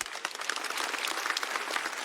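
Dense, lively applause from a stand-up comedy show audience, a loud crowd of many hands clapping continuously with sharp individual claps standing out.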